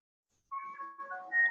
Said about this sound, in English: Is there an ice cream truck?